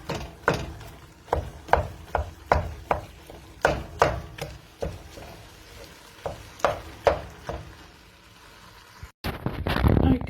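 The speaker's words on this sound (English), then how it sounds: "now I am going to start breaking up the mince." Minced meat broken up in a pan with a utensil, giving a series of repeated scraping, chopping knocks in an irregular rhythm over a steady sizzle, close and fairly loud, ending with a brief louder rustle.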